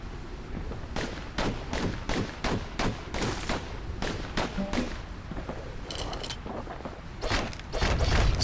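Two slinger pistols in the video game Bastion fire a rapid run of sharp, punchy shots in uneven bursts, close and loud, with a short clattering mechanism sound partway through.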